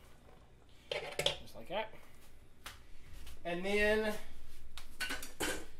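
Drained canned Mexicorn with white and black beans tipped into a cooking pot: a short clatter and soft wet pour against metal, under a person speaking in a home kitchen.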